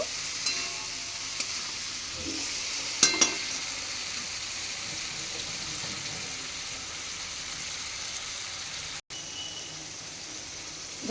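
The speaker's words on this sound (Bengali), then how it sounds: "দিয়ে কুমড়ো মশলার সাথে ভালো করে কষিয়ে নেব" Hilsa fish heads sauté with pumpkin and spices in a pan, a steady close sizzle running throughout, broken by a few light utensil knocks early on; no talking.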